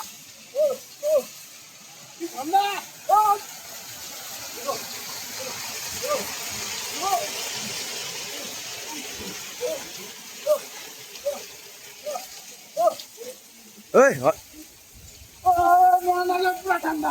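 Water gushes and splashes steadily from the temple water spouts at Muktinath in Nepal as a pilgrim bathes beneath them. Voices call out intermittently nearby over the constant pour.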